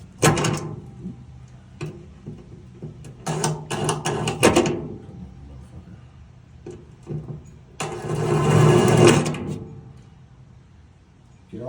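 A power drill drives a screw into the new metal floor of a 1969 Dodge Super Bee under restoration, with bursts of whirring and grinding close by, including a longer sustained run, separated by quieter pauses.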